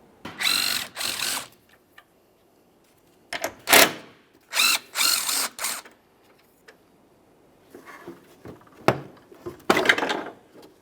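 Power tool bursts remove the headlight mounting bolts on a 2015-2020 Ford F-150: a series of short, loud, whirring runs of a drill or ratchet, separated by pauses, close to the listener.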